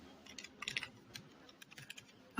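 Computer keyboard keys tapped while entering salary figures in an Excel sheet, a few scattered clusters of quick, light clicks at close range, quiet and with no talking.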